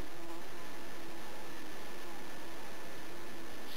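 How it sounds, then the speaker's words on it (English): Close, steady buzzing of a wasp in flight drones continuously and fairly loudly with no talk over it. "sodding wasp."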